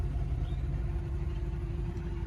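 A 2021 Ram 2500 Tradesman with a 6.4L Hemi V8 rumbles through its side exit exhaust, a steady deep idle drone heard close by with no talking.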